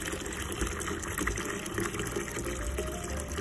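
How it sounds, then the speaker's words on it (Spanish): Chlorine-free water, ten litres for a homemade white-vinegar insecticide, pours and gushes steadily into a container, a continuous close splashing flow at moderate volume with no speech. "10 litros de agua, específicamente que no tenga cloro."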